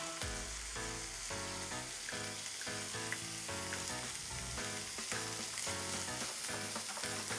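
Meat dropped into a frying pan beside stir-fried vegetables sizzles steadily and loudly throughout, a dense continuous crackle with no voice.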